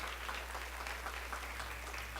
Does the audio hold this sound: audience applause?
yes